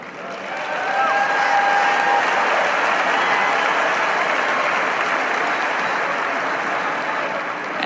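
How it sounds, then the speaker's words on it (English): A large crowd cheers and applauds in a sustained, loud roar that swells in and holds steady; no distinct chanting rhythm stands out. "Those men and women cheering, chanting over and over and over again, USA, USA, USA."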